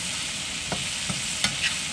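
Steak fries sizzling steadily in a hot frying pan, a close, continuous hiss broken by a few soft clinks and stirring scrapes.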